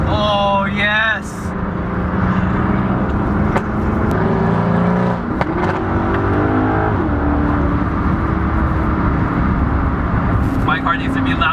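A supercar GT revs on a highway, with quick rising engine sweeps at the start and again near the end over steady road and traffic noise, while people talk inside a car.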